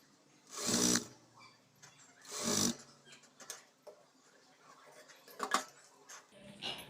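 A sewing machine stitches a blouse lining in two short loud runs, each about half a second, with quieter handling noises and soft clicks between them.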